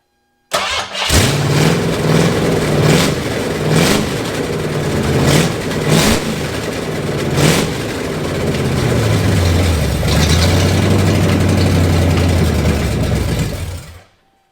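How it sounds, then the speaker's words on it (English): Ford Foxbody with a swapped 5.0 engine, missing some O2 sensors and timing work, catches and runs loud and close, with several sharp throttle blips early on and then a longer sustained rev that rises and falls before cutting off. "I'll give it some throttle."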